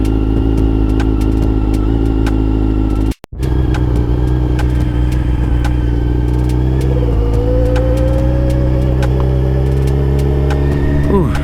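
A Kawasaki ZX12R sport motorcycle engine runs loud and close throughout a test ride, holding a steady drone with a brief cut-out before its pitch gradually rises under acceleration.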